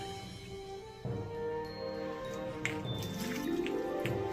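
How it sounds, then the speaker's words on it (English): A cup of apple cider vinegar poured in a home kitchen, a steady liquid stream starting after a second and running continuously with a rising gurgling pitch as the container fills, moderately close. "we're gonna put a cup of apple cider vinegar"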